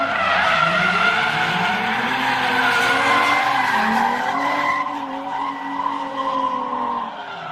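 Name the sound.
cars driving a lap in a grassroots drift competition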